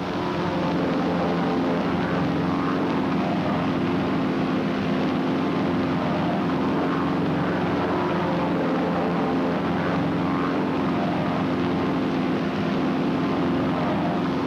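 1953 US Navy aircraft flying in close formation: a continuous, loud, droning engine hum with a steady tone throughout, no talk and no breaks.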